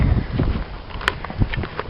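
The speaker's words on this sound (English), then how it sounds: "So, it's March 29th, and it's windy." Gusty, dusty wind buffets the microphone with a rough, low rumble that swells and dips, with brief rustling noises and no speech.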